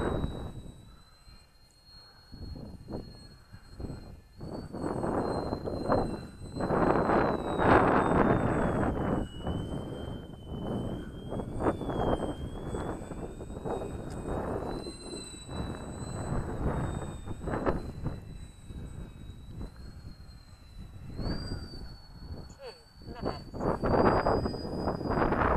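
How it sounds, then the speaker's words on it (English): Strong gusty wind roars and buffets the microphone at a flying field during a Yak RC model plane flight, with the plane's thin motor whine rising and falling faintly above the steady rush throughout. "Oh, it's really too windy."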